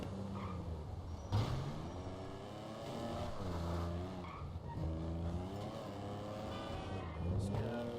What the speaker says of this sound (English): listen to the sound of this exhaust though in this car.